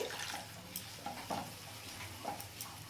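A little water goes into tomato masala frying in a pan for a thin pabda fish curry, bringing a soft splashing hiss with a few light scrapes, fairly quiet and close.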